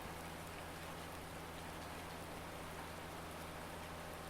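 Steady rain falls in Farming Simulator 2019 during early spring seeding, a continuous even hiss of drops on surfaces with a low constant hum beneath, unbroken and without talk.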